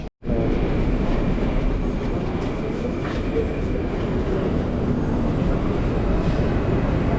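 A Moscow metro train at Taganskaya station rumbles steadily and loudly throughout, a dense low roar of wheels and carriage noise after a brief silence at the start.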